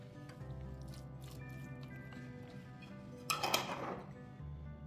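Wet squishing and dripping as cleaned, cut beef pieces go into a clay pot with coconut oil, with a louder, brief sizzling burst near the end over a low background hum and no talking.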